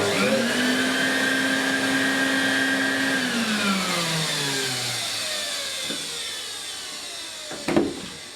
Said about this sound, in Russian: отдельный пылесос с маленьким циклоном